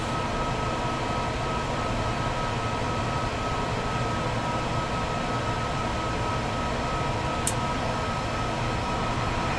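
A private jet's engine starts up, heard from the cockpit as a dense, steady roar and hum that holds constant throughout, with no talking.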